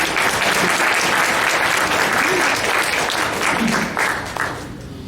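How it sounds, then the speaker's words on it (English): A symposium audience gives a long, dense round of applause for the lunch, loud and steady before thinning out and fading in the last second. "we need a round of applause for that excellent lunch provided for us"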